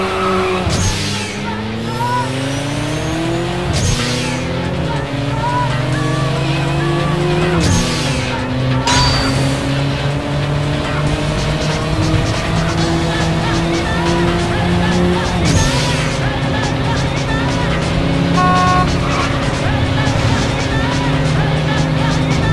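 Race cars roar through an arcade racing game, engines revving in continuous rising and falling pitch sweeps with repeated gear-shift drops and occasional tire squeals, loud and constant throughout.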